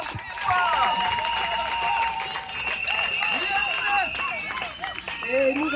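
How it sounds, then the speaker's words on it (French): An audience at a ceremony claps and cheers in a dense, sustained burst of applause over several seconds, with a voice speaking over the crowd and faint whoops mixed in. "Applaudissons-la encore plus fort."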